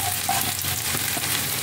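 Bitter gourd pieces fry in hot oil in a pan, giving a steady close sizzle with faint stirring scrapes throughout.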